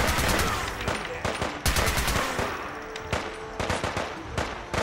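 Rapid bursts of automatic turret gunfire in the video game Fallout 4 Far Harbor, loud and close, coming in repeated volleys with short gaps between them and no talking over them.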